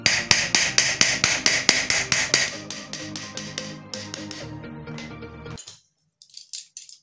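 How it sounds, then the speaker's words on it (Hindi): A hammer taps on the suction body of a V4 submersible pump fitted onto a pipe, a close series of rapid, even metallic blows. After a short pause, a few lighter taps follow. "हथौड़ी से थोड़ा थोड़ा मार लेना है।"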